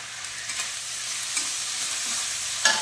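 Coriander-cumin paste with salt, turmeric and chili powder sizzles steadily in hot oil as it is stirred, with a constant close frying hiss and a few scraping knocks from the spoon.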